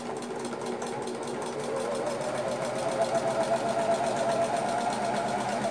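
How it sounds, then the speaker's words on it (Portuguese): Sewing machine stitching the side seams of a doll's shirt, a steady close mechanical whir that runs the whole time and grows slightly louder and more rhythmic partway through. "nós vamos costurar as laterais"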